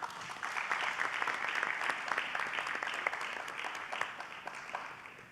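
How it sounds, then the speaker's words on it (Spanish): Audience applauding a panelist introduced at a business conference panel, steady dense clapping from a crowd sustained throughout, fairly loud and even with no talk over it. "Les pido un aplauso, por favor"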